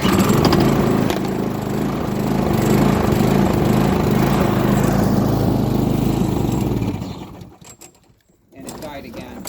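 A Craftsman snowblower with a vertical-shaft Briggs & Stratton engine runs loud and close with a steady rumbling drone, then sputters and dies before a brief noise follows.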